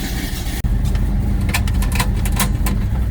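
A 1970 Dodge Duster engine idling steadily after a couple of minutes of running, a low continuous rumble, close and even, with no talk over it.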